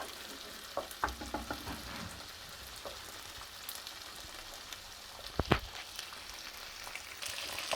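Two eggs frying in a pan for pad thai, a low steady sizzle with scattered crackles and a sharp scraping clatter near the middle as the yolks are broken up, close and without talk.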